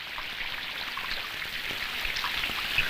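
Steady rain falls on a house with a dense patter of drops that holds constant throughout, with no voices.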